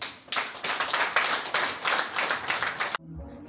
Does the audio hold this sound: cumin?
no